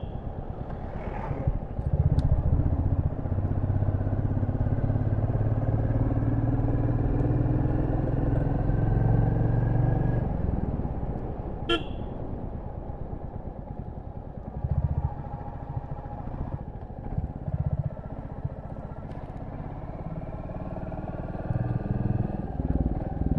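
A motorcycle riding along a winding mountain road toward Kurseong and Darjeeling, its engine droning steadily and close, easing off midway before picking up again, with wind and road noise.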